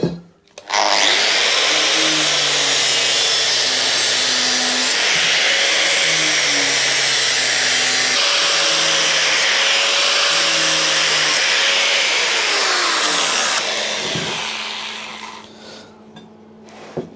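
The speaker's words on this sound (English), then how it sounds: "when it's getting close to being a good finish, I'm barely putting any pressure on the grinder" An angle grinder smoothing welds on a Royal Enfield Bobber build, a loud steady whining grind with shifting pitch as pressure changes, running continuously before spinning down near the end.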